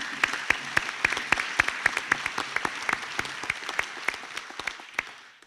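Sparse, distinct handclaps at a graduation ceremony, individual claps rising sharply above a soft background wash of clapping, slowly thinning out toward the end.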